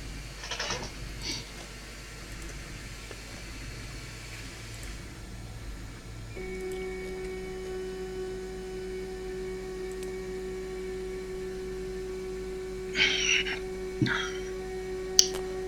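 Printer's high-speed stepper motor running, a faint steady whine that starts partway through over low room hum, with a few brief clicks and taps near the end.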